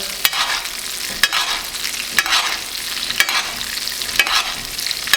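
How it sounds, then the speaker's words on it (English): A rib eye steak sizzles loudly in a pan over medium heat while golden-brown butter is basted over it, with spoon scrapes pulsing about once a second, close up and with no talking. "Gonna baste it really nice with the golden brown butter."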